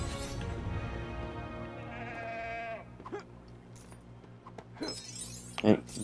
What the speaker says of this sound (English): Yeah, nah, it's a goat.